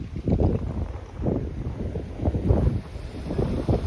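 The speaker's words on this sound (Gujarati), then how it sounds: "પવન સીધો ખુલ્લો અહીંયા જ આવે" Steady open sea wind buffets the microphone in low rumbling gusts on the coast near Pipavav port, with faint water noise beneath and no voices.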